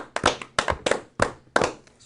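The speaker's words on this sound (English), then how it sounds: "Give him a little round of applause" A small studio round of applause, heard as a few scattered sharp hand claps in short bursts, close and fairly loud rather than a large crowd.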